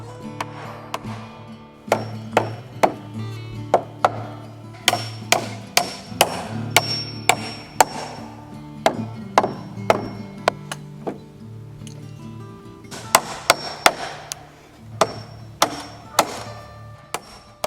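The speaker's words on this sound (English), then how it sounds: "Even though I'm nailing off all these 45-degree braces" A hammer drives nails into 45-degree wooden braces on a wood shed with a steady run of sharp, ringing blows, some in quick bursts, loud and close.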